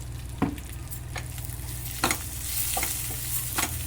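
Chennangi (senna) leaves fry in a little oil with a steady broadband sizzle, broken by a few sharp stirring scrapes and clinks. No one speaks.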